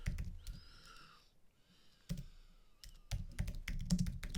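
Keys clack on a computer keyboard as a search query is typed, coming in short uneven bursts close by with faint background noise between them.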